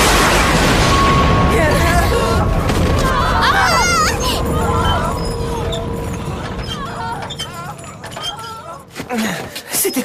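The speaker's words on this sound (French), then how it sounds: "C'était quoi? Une explosion?" A distant explosion-like boom rolls through a noisy outdoor scene, followed by a long rumbling wash of debris and commotion with scattered cries and voices, fading toward the end with a few sharp clatters.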